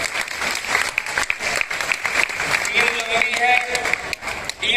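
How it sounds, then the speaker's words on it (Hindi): A large crowd at a Hindi poetry gathering claps loudly in thick, sustained applause, with a voice speaking over the clapping partway through. "पीछे तक एक बार जरा जोरदार तालियां बजा करके आदेशित कर दीजिए।"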